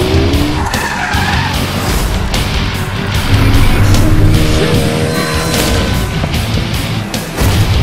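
A car skids hard with tires squealing in an action film chase, loud and sustained over several seconds amid roaring engine noise and crashing impacts.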